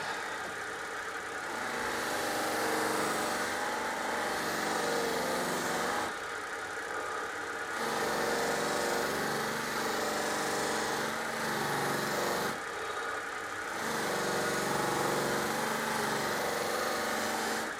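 An air compressor charges a new pressure pot used for burl and resin casting, a steady mechanical drone running close and loud for most of the clip, with a few brief dips and restarts.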